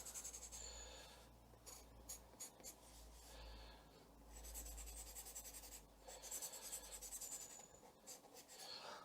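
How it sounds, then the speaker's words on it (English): Pencil marks scratched onto paper by hand, a quiet, close-up run of short rubbing and scraping strokes in bursts with brief pauses. "couple of pencil marks."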